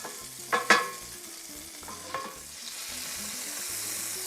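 Butter melting and sizzling in a hot pan as it is swirled, a faint, steady hiss rising beneath a few soft scrapes and clinks from the pan, with quiet background music.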